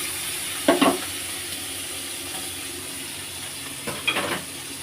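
Shrimp frying in oil in a pan for a pointed gourd and shrimp dish gives a soft, steady sizzle, broken by two short bursts of stirring or scraping. No one speaks.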